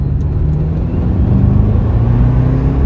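An Audi A8 cruises along with a steady, loud low engine hum and road drone throughout, with no talk.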